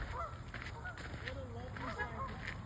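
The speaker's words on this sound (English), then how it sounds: "Lots of geese." Geese honk repeatedly from some distance along a wooded trail, a loose chorus of nasal calls over steady outdoor background noise.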